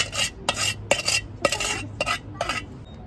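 A spoon stirs and mixes Pahadi lingdi (fiddlehead fern) pickle with achar masala in a bowl, about six distinct scraping strokes in a loose rhythm, close and clear with no talking.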